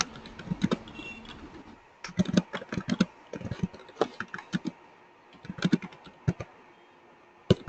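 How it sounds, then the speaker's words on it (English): Someone types on a computer keyboard in irregular bursts of crisp, close key clicks, with a short quiet pause early on before the tapping resumes. "I'm just typing the question."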